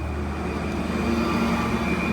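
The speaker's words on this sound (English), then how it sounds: "Garbage truck." A garbage truck passes in a steady, continuous low rumble with an engine drone and a faint high whine, holding an even loudness throughout.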